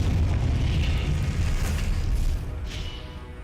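Spell explosions from a Hogwarts video game sound as a dense, loud roar of booming blasts, with a brighter burst near the middle, tailing off slightly toward the end. No one talks.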